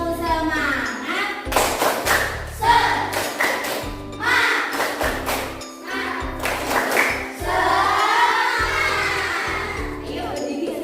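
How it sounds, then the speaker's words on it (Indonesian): A fourth-grade class doing a rhythmic spirit clap, groups of sharp claps and thumps in a set pattern alternating with children's voices chanting along, close and lively. "Tepuk semangat."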